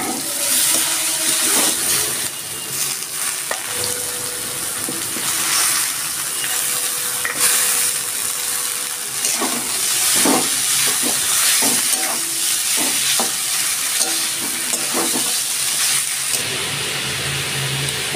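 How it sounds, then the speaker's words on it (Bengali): Water lily stems sizzle and fry in a pan for a Bengali pea-lentil dish, with steady close frying hiss and repeated scraping stirs of a spoon throughout, no talking. "এবার আমি শাপলাগুলো এর মধ্যে দিয়ে দিচ্ছি।"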